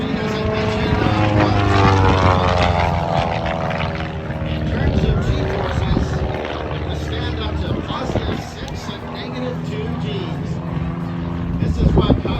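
A Long-EZ light aircraft with a 200 horsepower IO-360 engine flies aerobatic manoeuvres, its propeller drone loud and continuous with rising and falling pitch, while a commentator talks over it.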